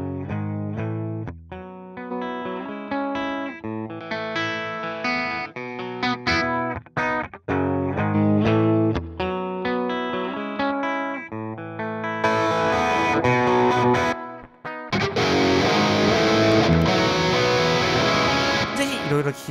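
Electric guitar run through presets of the TH3 amp simulator plugin in Cakewalk by Bandlab, first a clean picked chord pattern with short gaps, then a louder, heavily distorted crunch tone, played alone without talking.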